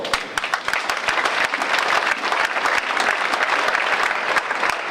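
Audience applause at a public lecture, with dense sustained clapping from a large crowd filling the room steadily from start to finish at even loudness.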